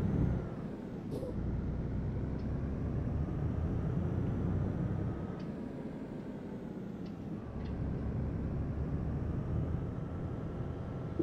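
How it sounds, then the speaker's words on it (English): A truck's air brake released in the Euro Truck Simulator 2 driving game, a short hiss followed by a steady low engine drone that continues loud and even throughout, with no talking. "Handbrake off, off we go."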